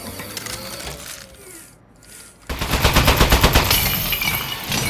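A turret in Aperture Desk Job fires a fast, loud burst of rapid, evenly spaced shots that rattle on steadily after a short hush, with mechanical whirring noise before it.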